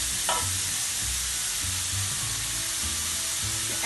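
Fermented bean paste (tau tiong) frying in a wok for popiah filling gives a steady, loud sizzle, with low scraping strokes of a spatula stirring repeatedly.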